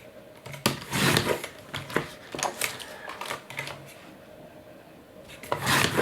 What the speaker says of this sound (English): So we'll trim this down and see how close we are.